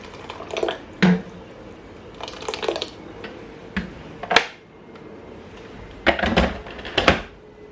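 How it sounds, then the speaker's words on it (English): Blended sweet pepper and onion purée goes into a pot for egusi soup, making a few wet splats and squishy plops at irregular intervals, fairly close, with quiet pauses between. "also I'm going to be adding some of my blended pepper"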